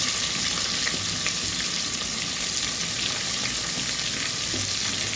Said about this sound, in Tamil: பொரிஞ்ச உடனே வெங்காயத்தை போடணும்.